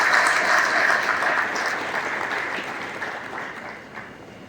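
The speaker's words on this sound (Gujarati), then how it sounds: "તે માટે સૌ લોકોને તાળીઓ વગાડીને અભિનંદન આપવા પડે" An audience at a weavers' consultation meeting in Surat applauds with a dense, steady clapping from a large crowd that gradually thins and softens over a few seconds.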